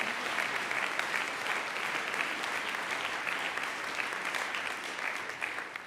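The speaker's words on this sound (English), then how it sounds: "please give them a big round of applause" An audience at a formal anniversary ceremony applauds the heads of a foundation, a dense, even roar of many hands clapping that holds steady throughout and tapers slightly at the end.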